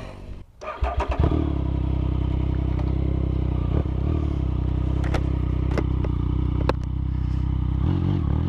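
Friends' motorcycle engine revving steadily and loudly up close after a brief start-up clatter, a continuous throaty drone with a few sharp bursts along the way.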